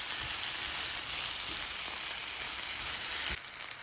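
Shrimp sauce with chipotle peppers fries in a pan, giving a steady close hiss and sizzle throughout with faint stirring clicks, and the sizzle drops briefly near the end.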